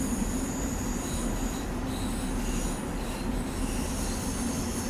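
Commuter train wheels squealing steadily in Train Sim World 4 on the LIRR commuter extension, a continuous high metallic screech over a constant low rolling rumble, loud and close throughout with no talking.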